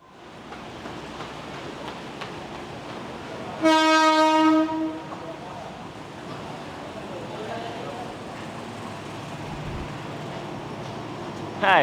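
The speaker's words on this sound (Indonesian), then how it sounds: "Kita sekarang sudah ada di stasiun Tanah Abang. Kita akan naik kereta menuju Banten" A train at Tanah Abang railway station in Jakarta sounds a loud, close horn blast lasting over a second amid the steady rumble and murmur of the station.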